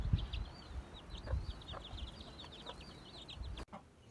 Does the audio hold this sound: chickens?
yes